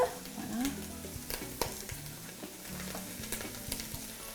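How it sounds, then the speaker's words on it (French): Okra with garlic, salt and pepper is stirred in a saucepan, giving a soft sizzle with repeated scraping and clinking strokes of the utensil, close and fairly quiet. "je vais juste mélanger le tout parce que je veux que toute la magie se mélange"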